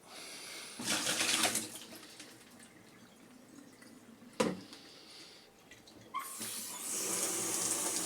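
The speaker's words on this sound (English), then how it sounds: "just while I fill the kettle up." A kitchen tap runs in short bursts, filling a kettle with splashing water in a hard-water area, with a sharp clunk midway and then a steady, louder flow near the end.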